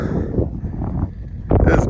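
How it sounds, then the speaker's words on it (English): Gusty wind at Horse Thief Canyon buffeting the microphone in low rumbling bursts, with a person talking over it outdoors in freezing weather. "It's so windy to go."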